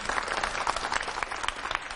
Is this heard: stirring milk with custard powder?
no